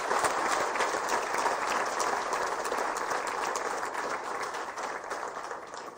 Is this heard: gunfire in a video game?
no